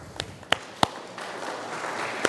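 Scattered handclaps and a soft spread of applause from an audience at a public school meeting, greeting a town selectman; a few sharp claps stand out over a thin, low wash of clapping.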